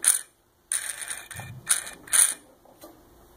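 Garrett VNT turbo actuator driven by a Banshee controller makes a few short mechanical whirring and clicking bursts, close and fairly quiet, with gaps of silence between them.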